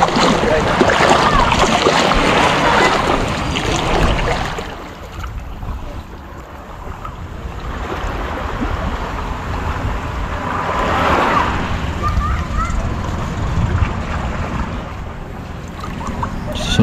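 Boat noise out on open water, with wind buffeting the microphone and waves washing around; the rumble swells and eases steadily throughout.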